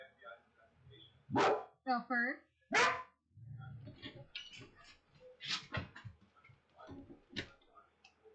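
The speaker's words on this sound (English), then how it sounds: "You don't gotta bark just because another dog's barking." A dog barks at night in a home, giving a few loud, sharp barks in quick succession near the start, while a person talks over and between them.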